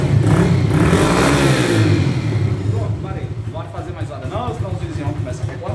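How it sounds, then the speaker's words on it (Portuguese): A 2011 Honda Fan 125 motorcycle fitted with a sport exhaust revs loud and close, then settles into a rough, throbbing idle with a pulsing beat, while someone talks over it. "Aqui é uma fanzinha 2011, escapamento esportivo, certo que vai dar uma melhorada sim"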